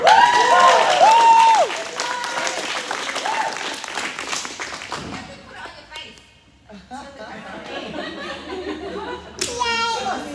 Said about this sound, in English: Clap it up for Sipa, by the way.